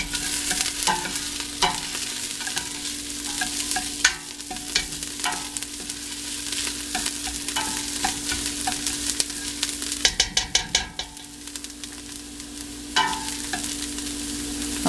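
Diced vegetables sweat and sizzle in a pot for black bean chili, a steady crackling hiss under a low hum, punctuated by scattered utensil clinks and a brief burst of scraping stirs near the end.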